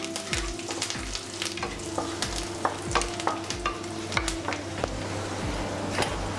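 Dried red chillies and curry leaves fry in hot oil for a curry leaf chutney, a steady close sizzle broken by repeated scraping stirs of a spatula against the pan at a roughly even rhythm.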